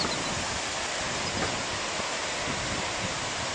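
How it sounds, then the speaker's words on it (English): A waterfall on the Timpanogos mountain hike rushes as a steady broadband roar, constant and fairly distant, with no voices over it. "Yay, I like waterfalls."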